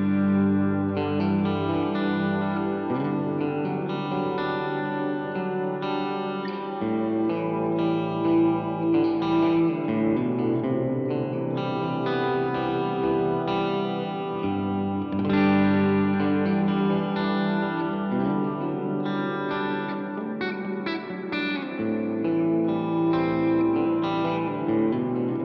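Electric guitar played through a reverb effect on a Line 6 HX1 multi-effects pedal, a sustained chordal passage with a washy, lingering ambient tail, steady and fairly loud throughout with no talking.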